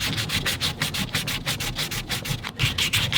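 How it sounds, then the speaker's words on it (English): Hand sanding small wooden corbel shelf details with 220-grit sandpaper, rapid close rhythmic back-and-forth scratchy strokes, steady and alone. "I like to just take my 220 off and then come in and hand sand them"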